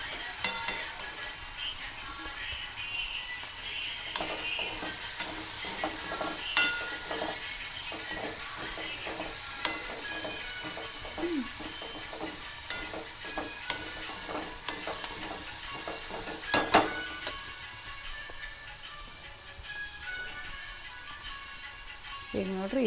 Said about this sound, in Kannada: ಸ್ವಲ್ಪ ಮೊದಲು ಎಣ್ಣೆಗೆ ಉಪ್ಪು ಅರಿಶಿನ ಪುಡಿ ಎಲ್ಲ ಒಗ್ಗರಣೆ ಹಾಕಿಂದ ಹಿಂಗೆ